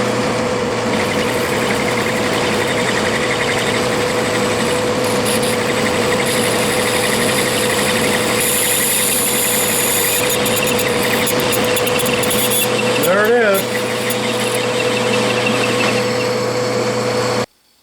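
An Atlas metal lathe cuts a groove with a cutoff tool on a steering pulley for a King Midget car, a loud, steady motor drone with a faint whine that runs throughout and cuts off abruptly at the end.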